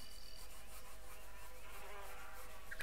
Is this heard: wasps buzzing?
yes